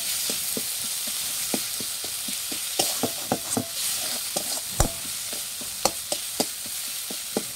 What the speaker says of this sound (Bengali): দিয়ে দিচ্ছি হলুদ গুঁড়ো, ভালোভাবে কষিয়ে নেব মশলাটা